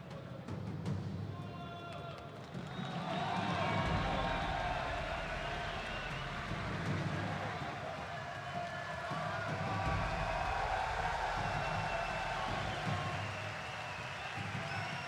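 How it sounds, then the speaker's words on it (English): Crowd murmur fills a fight arena in Osijek during an FNC 32 MMA event, a dense, distant wash of voices and shuffling that swells slightly and continues throughout. "BILANDZIC soaks up some of the ambience of the crowd here in the arena"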